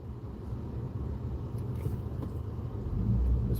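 A city bus rumbles along the road with a steady low drone that swells louder toward the end, heard from nearby with no one talking.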